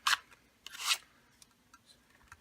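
A paper punch works through card to cut a tag topper, giving two sharp, scraping crunches close up, followed by faint rustling and light taps.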